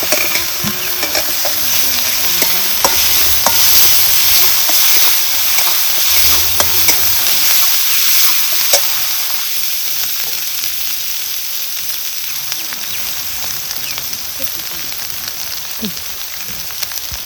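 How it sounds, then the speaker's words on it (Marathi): Chili masala chutney roasts in oil in a pan for a rustic coriander bhaji, a loud continuous frying hiss with occasional stirring scrapes, no talk. "चटणी आपल्याला चांगली अशी भाजून घ्यायची"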